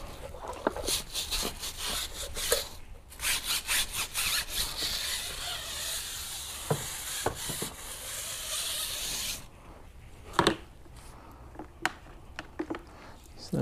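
A hard-bristled tire brush scrubs a car tire in steady back-and-forth strokes, loud and close for several seconds, then lighter rubbing with occasional taps and knocks.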